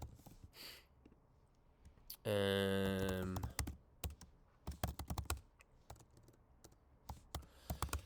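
Someone types on a computer keyboard with quick, light clicks in irregular bursts. Early on, a brief sustained tonal sound rises above the keys.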